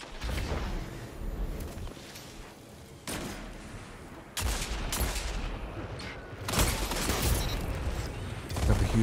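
Rapid sprayed gunfire in a Destiny 2 competitive PvP match, bursts of shots coming in waves with sharp loud volleys near the middle and end, layered over constant game ambience.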